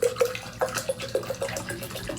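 Sweet tea is poured into a glass, a close gurgling, trickling pour with a series of small splashing pulses over about two seconds, no talking.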